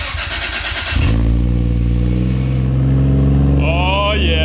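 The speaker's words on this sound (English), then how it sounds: "I want to show you what the cold start of this exhaust sounds like" Toyota Chaser JZX100 with a 1JZ engine cold-starting with the Varex muffler valve open: a starter crank, then the engine catches into a loud, deep, steady exhaust idle with a voice speaking near the end.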